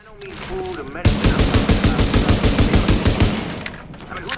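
Rapid sidearm fire in The Division: a fast, steady volley of close, loud shots lasting about two and a half seconds, with a voice speaking briefly before it starts.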